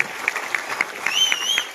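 Audience at a two-act Marathi play applauding in a hall, a dense patter of many hands clapping steadily at middle distance, with a faint whistle-like tone sliding through near the end.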